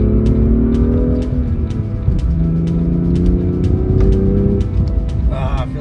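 A BMW M2 engine with a manual gearbox roars and revs up steadily, rising in pitch through the gears around a bend, loud and close throughout.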